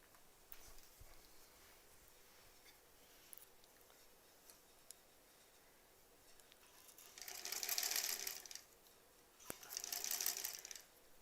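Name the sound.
sewing machine stitching a quilt block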